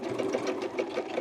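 A sewing machine stitching jeans during a denim upcycle rattles along in a fast, even mechanical chatter up close, running continuously through the short stretch with no talk.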